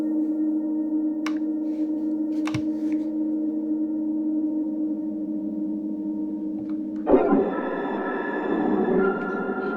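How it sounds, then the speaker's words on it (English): A Tasty Chips GR-MEGA granular synth runs through distortion, chorus, large reverb and compressor, holding a steady droning tone with faint chirps, then shifting abruptly near the end into a brighter, denser, louder texture. "distortion, chorus, large reverb,"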